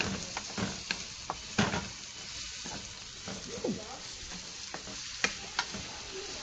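Garlic and tomatoes sautéing in a pan, soft steady sizzle with scattered clicks and scrapes of stirring, fairly close and quiet.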